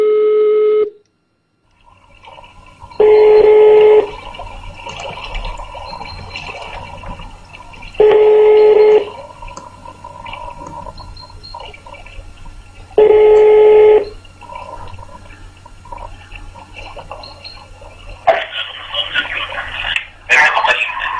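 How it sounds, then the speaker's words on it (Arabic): A telephone ringback tone repeats in regular bursts, loud and close, over a faint background hum, with other tones beforehand and a louder burst of sound at the end. "عثمان الخميس، ارفع التليفون."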